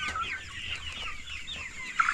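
Seven-week-old Rainbow Rooster chicks, a cuckoo breed of improved Kienyeji chickens, cluck repeatedly and close by in a chicken house while feeding on greens, with soft overlapping calls.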